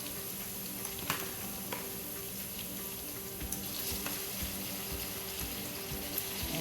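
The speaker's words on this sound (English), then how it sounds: "now what I'm going to do next, I'm going to start adding my shrimp." Shrimp dropped into a pan of sizzling garlic for a lobster and shrimp pasta, giving a steady close hiss of frying with a few scattered clicks and pops, no voices.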